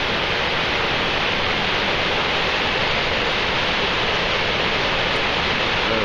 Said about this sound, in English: Okay, this is a huge waterfall.